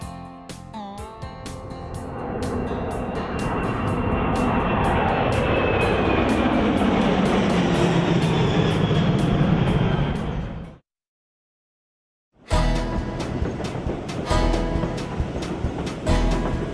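Presidential rail car Ferdinand Magellan, designated U.S. number 1, rolling along the tracks in a steady, loud rumble with faint clickety-clack, breaking off into a brief silence before the running resumes.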